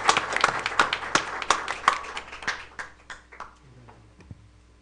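Audience applause at a school board of education meeting, a burst of many hands clapping that rings out loud at first and thins to scattered claps as it fades over several seconds.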